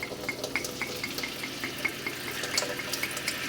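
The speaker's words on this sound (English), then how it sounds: "I'm going in with white wine." White wine poured into a hot pot on high heat to deglaze it, giving a steady liquid hiss and sizzle with small crackling pops, moderately quiet and with no talk.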